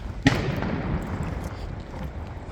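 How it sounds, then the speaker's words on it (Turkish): A single firework bursts in a quiet Swedish street in Arboga on the evening before New Year, a sharp loud crack near the start followed by a rumbling tail and steady low background noise. "Havai fişek attılar."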